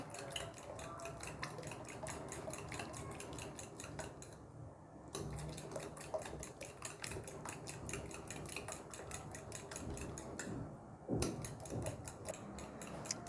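Eggs and sugar whisked together for an egg halwa, a dense stream of rapid metallic clinks and scrapes against a bowl, with two brief pauses before the busy rhythmic beating resumes, no voices.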